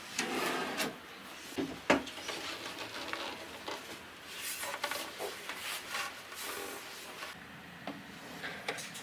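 A plastic drawer clip on a kitchen cabinet drawer snaps into place, with a few sharp clicks and scraping wood rubs as the part is pushed and fitted, close and quiet.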